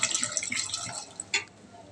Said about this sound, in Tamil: கொஞ்சமாக பூண்டு நம்ம தண்ணி ஊற்றி நல்லா வாஷ் பண்ணிக்கலாம்.